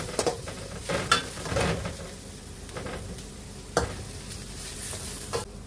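Curry leaves, green chillies and spices sauté in hot oil in a pan for an egg curry, a steady close sizzle broken by occasional stirring scrapes, with no talking.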